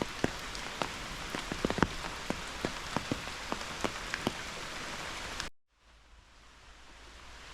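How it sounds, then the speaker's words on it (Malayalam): Heavy rain falls in the Idukki hills, hissing steadily with scattered distinct drops striking nearby surfaces, then cuts off sharply, leaving only a faint hush. "ഇത്ര നേരം നല്ല മഴയായിരുന്നു കേട്ടോ ഇനി മഴ മാറിക്കഴിയുമ്പോൾ ഇവിടെ എല്ലാം മഞ്ഞായിരിക്കും"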